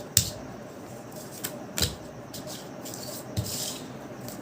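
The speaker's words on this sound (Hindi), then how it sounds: "तो मैं कार्ड्स प्लेस करता हूँ।" Tarot cards set down one by one on a table, a few soft papery slaps and brushing rubs spaced a second or so apart, faint against a quiet room hiss with no talking.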